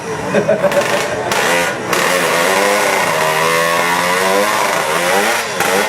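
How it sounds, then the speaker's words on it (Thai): A modified motorcycle engine with a dual-injector setup revs hard and holds a loud, buzzy high-rpm drone with pitch sweeping up and down under throttle, after a few short blips at the start. "มึงจำคันเร่งดีๆไว้บอล"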